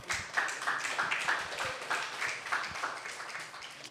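An audience claps steadily after a live performance, a dense, even patter of many hands sustained throughout at moderate loudness, with no voices rising above it.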